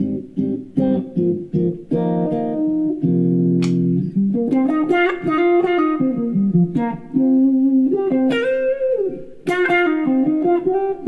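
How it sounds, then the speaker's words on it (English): An electric guitar runs through a Line 6 Helix Tron Up envelope filter modeled on the Q-Tron, giving quacky, vowel-like sweeps on plucked notes and short chords, starting with choppy strums, then a held chord and a melodic run. "find Tron Up. That's basically doing the Qtron Up mode that we're talking about."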